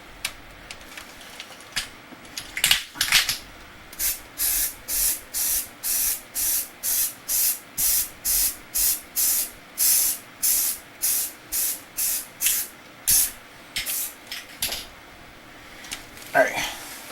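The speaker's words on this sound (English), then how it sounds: "The idea being that I want to mist." A hand mister sprays onto an art journal page in a long, even series of short, sharp hissing bursts, about twenty in a row, close and loud, with a few clicks before and after.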